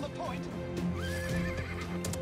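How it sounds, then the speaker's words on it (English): A horse neighs and whinnies with clip-clop hoof sounds in the video game Paladins, set among busy game effects and music. "This looks like the horse from Zelda."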